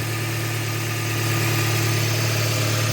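A Toyota Yaris Verso 1.3 engine idles steadily up close after a throttle position sensor replacement, a constant low droning hum with a slight vibrating rumble.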